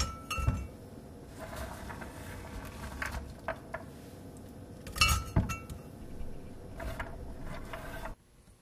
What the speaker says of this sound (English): put these chopped up chestnuts into a glass container